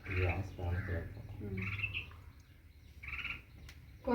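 Small birds chirp and tweet in short bursts among trees, near and fairly loud, with a voice talking over much of the calling.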